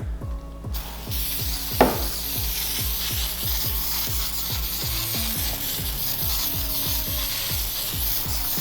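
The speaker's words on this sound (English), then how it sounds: "we're gonna take our contact adhesive and we're just gonna do it in a couple little points so that this thing can stay glued" Contact adhesive brushed onto a hump seat cover: rhythmic, repeated rasping rubbing strokes at a steady pace, close and fairly loud, with one sharp knock early on.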